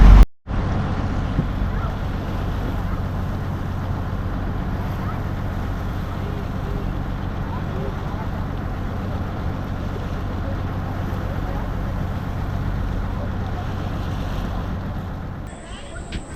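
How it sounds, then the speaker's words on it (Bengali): Steady rush of water lapping against a boat hull in the Sundarbans near Sajnekhali, with wind buffeting the microphone throughout, a constant low rumble without pauses. "যাতে জলের ঢেউটা ভালো লাগে আর এই ঢেউটা তোমাদেরকে দেখাতে পারি"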